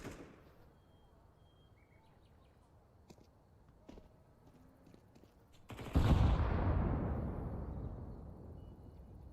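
A grenade blast in a Counter-Strike match, one sudden loud burst that decays slowly over a few seconds, preceded by faint clicks and quiet ambience.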